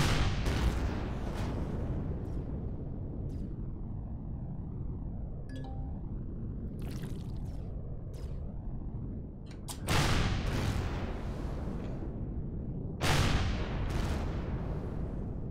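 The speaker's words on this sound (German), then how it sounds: "Oh, der hat direkt auf mich geschossen." Game combat in Empyrion Galactic Survival as an enemy opens fire on the player, loud broadband bursts and booms recurring across the stretch, with sharper blasts near the middle and end over a dense continuous rumble.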